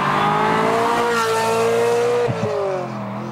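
A 1994 Ferrari 355 with a naturally aspirated five-valve-per-cylinder V8 revving hard, a loud sustained high-pitched wail that climbs and holds, then drops briefly with a gear change before continuing slightly quieter.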